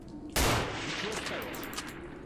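A single loud sniper rifle shot fired in the shooter game Stalker: The Way to Pripyat, with a sharp crack followed by a long rumbling, echoing tail that fades slowly.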